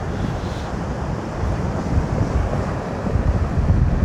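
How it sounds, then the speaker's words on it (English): Ocean waves washing over a fishing line on a windy shore, a rough continuous roar of surf and gusting wind buffeting the microphone, swelling louder toward the end, with no voices. "It's the way the waves are going over it."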